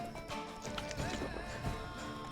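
Rhythmic hoof clip-clops of a galloping horse in The Witcher 3 video game, steady and mid-distance, over a busy game soundscape with music and effects.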